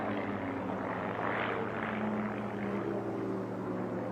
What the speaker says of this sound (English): Now think about it, Tommy, both of these aircraft are doing probably a little over 400 miles an hour right now.